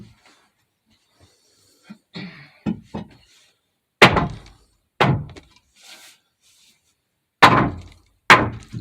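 Sharp, isolated hammer blows drive wooden shims while levelling an old house floor, in an irregular sequence, several hard knocks separated by pauses and a few lighter taps.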